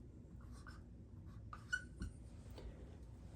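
A pen writes on paper at close range, giving a few faint scratchy strokes and light taps against a quiet background.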